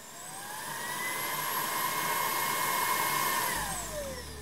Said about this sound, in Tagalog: mas malakas yung makina niya kasi naka-turbo mode maximum speed siya